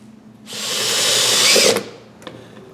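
A power drill with a paddle mixes deco lime stucco, a single loud, close whirring burst that builds for about a second and a half, then cuts off, followed by a couple of faint knocks.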